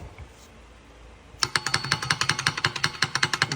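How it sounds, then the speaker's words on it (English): Toyota 2.4L RAV4 engine with rod knock from low, filthy, never-changed oil, heard during teardown as a fast, loud, evenly spaced metallic knocking that starts abruptly after a quiet moment and repeats steadily to the end. "when you hear that, that is your rod knock."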